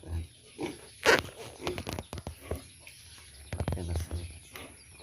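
Pigs grunt and snort in short irregular bursts close by, with one louder squeal-like outburst and some rustling in between.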